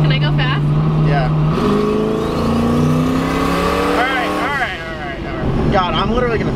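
A 1000-horsepower turbocharged Camaro accelerating hard from inside the car, its engine note climbing steadily through the gears with turbo whistle, while voices talk excitedly over it.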